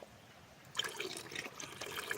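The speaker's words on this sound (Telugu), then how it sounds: "అట్టి చెట్టు నుంచి వాటర్ ఎలా ఊరుతుందని ఈరోజు మీకు లైవ్లో చూపిస్తున్నాను" Water trickles out of a cut banana tree stem after a quiet start, a faint close wet gurgling and dripping that runs on unevenly.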